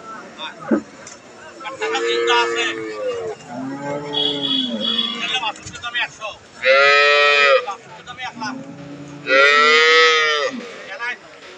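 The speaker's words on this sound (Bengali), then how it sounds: "এটা একটা ফ্রিজিয়ান গাভী" A Holstein Friesian dairy cow at a cattle market moos several times, with long, loud, close calls rising and falling, separated by short pauses and background market noise.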